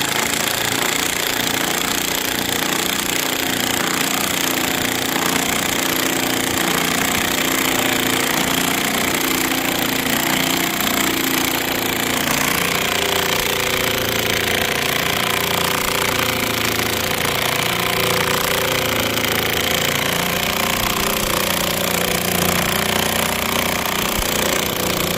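An impact wrench drives a tire bead breaker clamp with a loud, continuous rattling hammer that holds steady and close for the whole stretch, with no talk over it.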